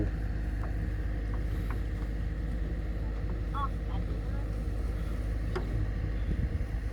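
A Wifi Jompalang combine harvester with a Mitsubishi engine and 45 undercarriage, stuck with a broken chain in a muddy rice paddy, gives off a steady, heavy, low engine rumble that stays at an even level throughout.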